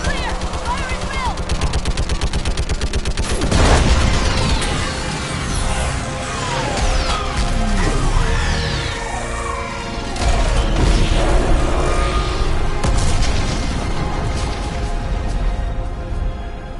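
Dense combat in Mass Effect 3 during an orbital strike, with rapid gunfire, heavy booms and mechanical clatter layered over a steady game score, and a voice calling out partway through.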